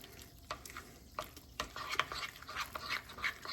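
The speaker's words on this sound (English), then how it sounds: "we'll give that a stir" A spoon stirs a yeast mixture in a bowl, giving close, irregular scraping and swishing strokes that rise and fall in short bursts, with no talking.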